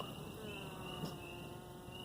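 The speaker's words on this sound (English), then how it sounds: "See how these first bees that came up here and discovered the queen pheromone are now fanning?" Honey bees fan their wings at a swarm to spread queen pheromone, a faint continuous buzzing hum with a steady high whine and no talking.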